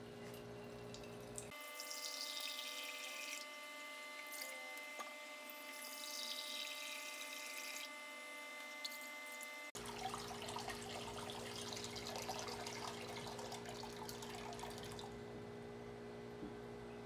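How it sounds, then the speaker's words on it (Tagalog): Water runs into a cooking pot in a steady trickling stream, quiet and close, pausing and resuming partway through over a faint electrical hum. "maglagay po ng tubig sa kasirola at heat and heat it up"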